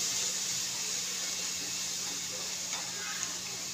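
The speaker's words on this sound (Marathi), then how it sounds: "कांदा जरा लाल होऊ द्यायचा चांगला।" Finely chopped onion sizzles in a pan for zhunka, a steady close hiss of frying that continues evenly with a faint background hum and no speech.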